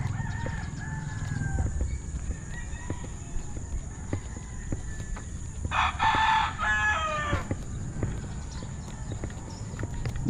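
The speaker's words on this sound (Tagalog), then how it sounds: "May mga manok." Chickens in a rural yard near an irrigation canal in Tanza, Cavite, with a rooster crowing once in the middle over faint background ambience and scattered clucks.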